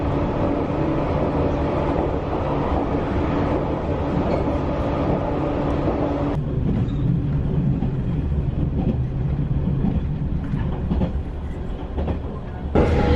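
Steady rumble and rattle inside a moving Shinano train carriage in Japan, a continuous low roar with the tone dropping partway through, no voices.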